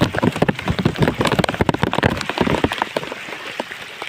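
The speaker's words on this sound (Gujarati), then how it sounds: "વરસાદ જોરદાર પડે હો" Heavy rain pouring down on a farm road, a dense close patter of drops striking surfaces with irregular louder splashes, steady and loud throughout.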